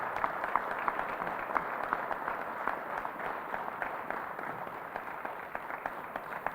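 A crowd applauds at an outdoor Veterans Day ceremony, steady continuous clapping at moderate distance with sharper individual claps standing out, holding even throughout without voices.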